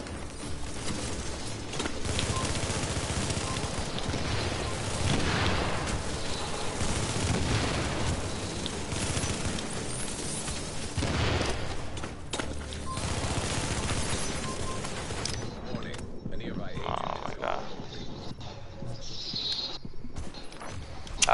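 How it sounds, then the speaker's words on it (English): Gunfire in The Division during a firefight, with dense bursts of rapid shots and booming impacts pressing on for most of the stretch, then thinning out toward the end. "he's shooting me while running"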